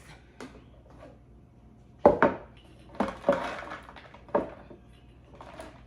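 Dried cranberries tipped into cowboy cookie dough in a mixing bowl, a few sharp clatters and soft thuds against the bowl in quick succession, close and otherwise quiet.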